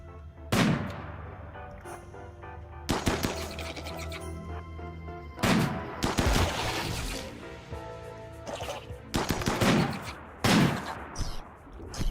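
Gunfire in the video game RimWorld, with repeated bursts of sharp shots in irregular volleys separated by brief pauses.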